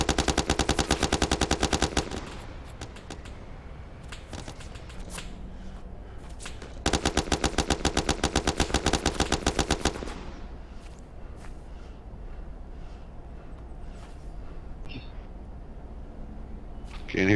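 Machine gun fire in the video game ArmA: two long, rapid automatic bursts, loud and sharp, separated by scattered single shots and distant pops against a low background rumble.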